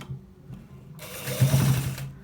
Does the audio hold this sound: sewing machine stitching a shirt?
yes